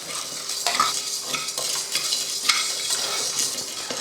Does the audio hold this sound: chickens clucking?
no